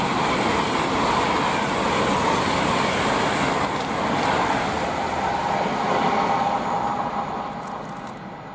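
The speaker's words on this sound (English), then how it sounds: "we've got 390-104 heading the opposite way, so to London Euston from Manchester" A Class 390 Pendolino, unit 390-104, passes on the West Coast Main Line at Tamworth bound for London Euston from Manchester, a loud continuous rushing roar of wheels and air that holds steady and eases slightly near the end.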